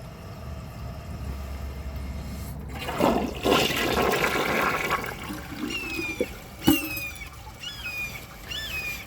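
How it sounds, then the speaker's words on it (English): A Project Source Pro toilet, partly clogged, flushes with a surging rush of water that swells and gurgles, followed by trickling refill and a few squeaky pipe whistles as the tank fills. "I'm going to let the tank fill back up, and I'm going to give it another flush"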